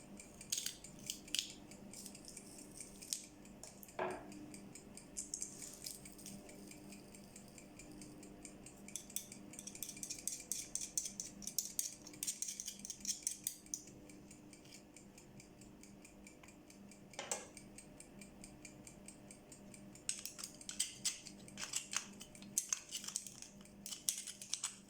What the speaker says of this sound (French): et les écraser et les disposer sur les tranches d'aubergine